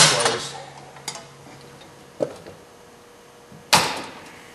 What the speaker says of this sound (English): And once you bring the door closed